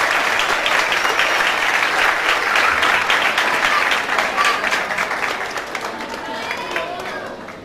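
An audience at a foundation event bursts into loud, sustained applause, dense clapping that stays strong and slowly thins toward the end, with no speech over it.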